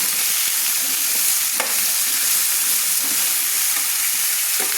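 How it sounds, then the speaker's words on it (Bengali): Mati aloo (yam) pieces stirred in a hot pan with salt and turmeric make a loud, continuous sizzle, with occasional scraping strokes from the stirring. "ভালো করে সুন্দর করে মেটে আলুগুলোকে আমি নেড়ে নিচ্ছি।"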